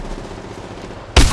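A single sharp, loud gunshot from the mobile game Apex Legends Mobile cracks out near the end after a quieter stretch of background game ambience.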